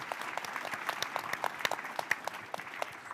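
A conference audience at a salmon hatchery panel session claps steadily in appreciation, a moderate, dense patter of many hands heard from within the room.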